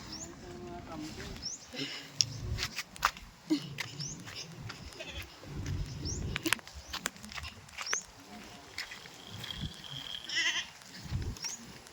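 Goats bleat in short, repeated calls around a farm pen while hooves and handling noises clatter nearby, mixed with intermittent talking from a person.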